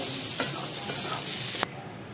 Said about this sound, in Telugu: ఇక్కడైతే నేను కొద్దిగా ఆయిల్ వేడెక్కిన తర్వాత మనం క్యారెట్, బంగాళదుంప కర్రీ వండుతున్నాను